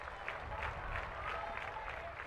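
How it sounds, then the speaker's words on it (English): Crowd at a college baseball game between Pittsburgh and Virginia Tech breaking into a broad, steady wash of cheering and clapping, heard faintly and at a distance throughout. "Crowd comes to life"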